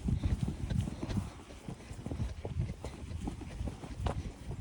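A horse named Marley on his first solo hack, ridden out along a route, hooves clip-clopping in a steady walking rhythm, close and continuous, with some light rustling around them.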